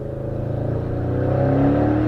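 Audi RS6 with a 730 bhp tuned engine revving hard in second gear, its exhaust note echoing off nearby rock walls; a loud, steady, rising engine roar held close throughout with no talking.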